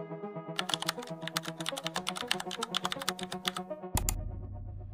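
Rapid typing on a computer keyboard, a steady run of close, crisp key clicks over a low background hum, ending in a short flurry of strokes.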